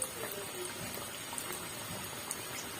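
Bengali singaras frying in oil until reddish brown, heard as a faint, even bubbling hiss with occasional small pops, close but low in level.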